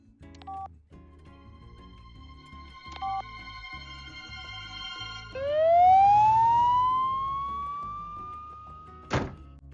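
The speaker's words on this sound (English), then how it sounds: "then you'll need an ambulance" Cartoon ambulance siren from American Dad, a loud rising wail that sweeps upward and holds, following scattered thumps and tones, ending with a sharp hit.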